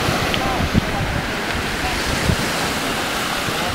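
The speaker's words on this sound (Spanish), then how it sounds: "Estamos en la playa de Cabria, un lugar al este de Almuñécar, una playa muy tranquila" Gentle surf at Playa Cabria, a quiet beach east of Almuñécar, a continuous wash of waves blended with wind buffeting the microphone, steady and fairly loud.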